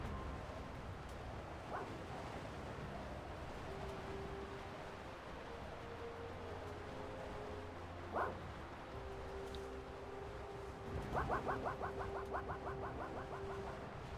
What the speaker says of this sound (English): I don't think I've ever heard Griever bark like that before